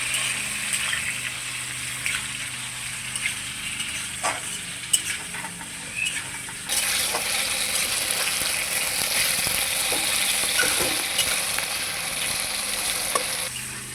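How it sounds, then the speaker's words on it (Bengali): Chopped tomatoes fry with spices in a kadai, giving a moderate sizzle with occasional clinks and scrapes of stirring. Partway through, the frying jumps to a louder, fuller crackle that holds until the end. "টমেটোগুলোকেও আমি মশলার সঙ্গে ভালোভাবে ভেজে নিলাম"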